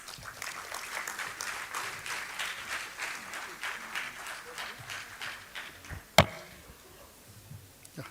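Steady applause from a conference audience welcoming a speaker at an international conference on green information technology, fairly soft and sustained for several seconds, with a sharp bang near the end before it thins out.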